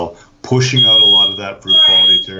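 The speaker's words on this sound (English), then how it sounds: "That's my smoke alarm going off." A home smoke alarm emits high, piercing beeps in short bursts while a person talks loudly nearby.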